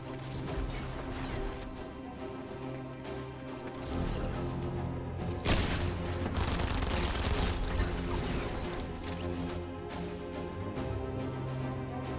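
Dense, continuous gunfire and clattering combat noise in a Fortnite match, shots layered thickly over one another and swelling louder midway, with no voices.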